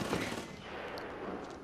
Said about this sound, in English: Oh, is someone shooting?